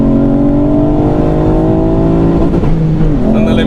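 A Pumaspeed-tuned 290bhp Ford Fiesta ST Mk8 on track pulls hard in third gear, its engine note climbing steadily and loudly from close inside the cabin before a brief shift-like dip near the end.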